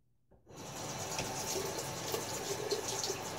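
Tap water starts running after a brief quiet moment and keeps gushing steadily close by as a Gillette Fat Boy safety razor is rinsed between shaving passes, with no one talking.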